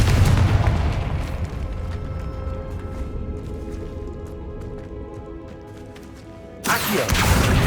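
A Confringo blasting spell goes off in Hogwarts Legacy, a loud booming burst that rumbles and fades over several seconds before a second sharp blast erupts near the end.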